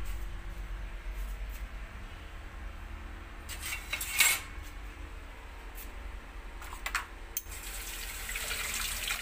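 Dishes and cutlery being washed under a running tap at a kitchen sink after a pot of rice was cooked and drained, with steady water flow and occasional clinks of metal utensils.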